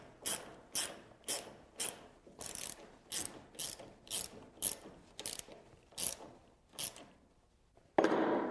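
A hand ratchet drives lag bolts into a wooden stair newel post, giving a dozen rapid clicking bursts in a steady rhythm, close and crisp, with a brief louder scrape at the end.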